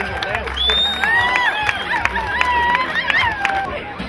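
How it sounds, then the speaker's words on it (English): A crowd cheers, whistles and shouts steadily for the ladies' fishing team aboard the Bills for Bills at the Poor Girls Open 2012 tournament scales, loud and continuous with scattered whoops. "How about a nice round of applause for the ladies fishing aboard the Bills for Bills?"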